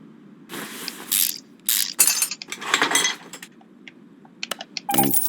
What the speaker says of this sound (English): So we'll go ahead and pull this caliper.